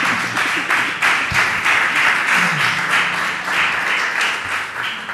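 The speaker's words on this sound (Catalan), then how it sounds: "gràcies pels aplaudiments" Audience applause at a Catalan sociolinguistics research conference, a steady sustained wash of clapping throughout with no speech, filling the hall at an even loudness.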